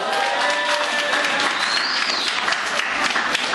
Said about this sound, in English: Isra seems a bit shy, so she needs a good applause.